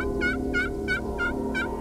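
A wild turkey tom gobbles loudly and close in a hunting setting, five rapid rattling bursts repeating evenly, each a quick descending warble.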